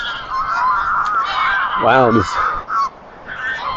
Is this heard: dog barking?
no